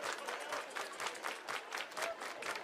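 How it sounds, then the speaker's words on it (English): A baseball crowd in Bloomington, Indiana, claps and cheers at moderate distance in a steady wash of applause during an at-bat, with no clear talk over it. "Crowd starting to get into it."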